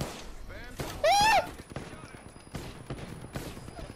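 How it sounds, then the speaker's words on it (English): Wingman pistol shots ring out in Apex Legends as a few sharp, close cracks spaced apart. Players talk over the gunfire and a loud squealing game sound cuts in briefly. "Wingman shots on point"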